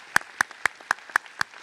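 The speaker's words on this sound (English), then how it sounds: "Please join me. Another round of applause." Applause at a student recognition ceremony: a steady run of sharp, evenly spaced claps, moderately loud, with a soft wash of other hands beneath.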